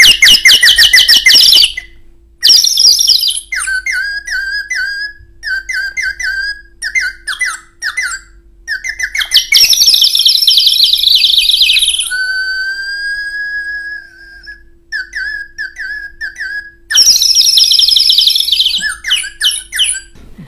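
Birdsong is imitated on a traditional folk instrument: loud, close bursts of shrill chirps, warbles and sliding whistles come in uneven phrases with brief pauses between them, and no voice is heard.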